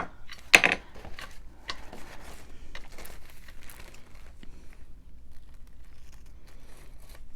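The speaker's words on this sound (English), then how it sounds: "So now I'm going to just cut around it." Scissors snipping around a piece of glassine paper, with a loud crinkle near the start followed by a series of close, irregular cuts and soft paper rustles.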